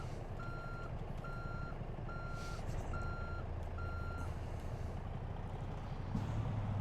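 Reversing beeps from a truck in American Truck Simulator: about six evenly spaced electronic beeps over a steady diesel engine drone, with a short air-brake hiss near the end.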